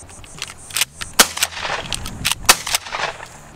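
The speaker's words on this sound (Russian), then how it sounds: "Это стрельба с докидкой по одному патрону прямо на лоток." A left-handed Mossberg 590 pump-action shotgun fires several sharp, loud reports in quick succession, each followed by mechanical clacks of the pump action as single shells are loaded straight into the port.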